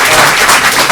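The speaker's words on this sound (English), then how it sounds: "I know you'll want to applaud everybody" Audience applause rises in a public hearing room at a town planning meeting, a short steady burst of clapping filling the space.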